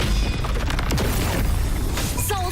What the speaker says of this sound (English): Cluster cannon ready.